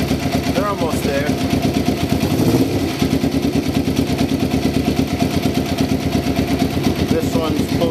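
A motorcycle engine with freshly installed, synchronized carburetors idles steadily and gets brief throttle blips, the revs rising and falling in short bursts over a constant close rumble.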